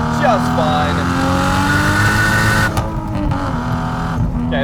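A Nissan Skyline R34 GT-T sedan with blast pipe exhaust idles loud and close with a steady, throaty drone and a brief dip in pitch near the end.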